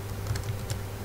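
Keys tapped on a computer keyboard while setting up a Windows Server 2012 R2 iSCSI target, a few soft, light clicks over a steady low hum.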